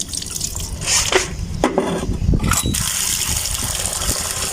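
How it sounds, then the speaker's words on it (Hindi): Water tipped out of a container in a few short pours, splashing and dripping near and fairly loud, with brief gushes and trickles between pauses. "इस पानी को एक दो दफ़ा आप इस तरीके से गिरा लें।"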